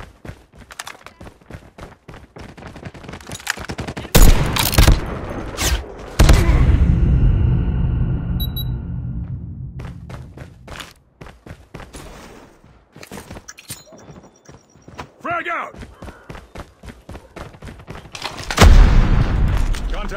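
Sniper rifle fire in the COD Mobile shooter game. Several loud, sharp booming shots ring out, each followed by a decaying rumble, mixed with clattering footsteps and bursts of other gunfire.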